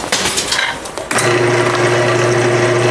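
A wood lathe turns a workpiece while a gouge is eased into the wood at a slight upward angle, a loud steady motor hum with rough scraping that settles into a constant whine.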